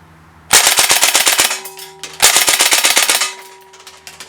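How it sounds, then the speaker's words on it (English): An Umarex EBOS CO2 BB machine gun fires two rapid bursts of about eight shots each, loud and close, each a quick rattling string of cracks followed by a brief metallic ring, with no talk. "we're switching this over to 8-round burst"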